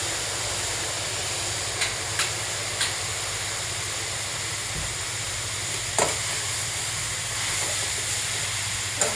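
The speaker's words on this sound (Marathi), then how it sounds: "संपूर्ण भाज्या मी कढईत टाकून घेतल्या आहेत।" Beetroot, carrot, cabbage and capsicum stir-fry in a large thin kadhai, giving a steady, even sizzling hiss with a few light clinks of stirring throughout.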